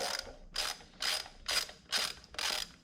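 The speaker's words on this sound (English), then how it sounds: "remove these 10mm bolts that I just had hand tight for this little fella right here" A ratchet loosening 10mm bolts on a K-swap heater core bypass kit clicks in six even bursts about half a second apart, close and fairly quiet, with no voices.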